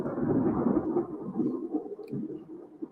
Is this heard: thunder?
yes